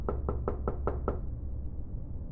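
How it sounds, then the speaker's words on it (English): Six quick knocks on a wooden front door sound in an even, steady rhythm over a low background rumble, then stop, leaving quiet room tone on a late night at home. "The knocking persisted"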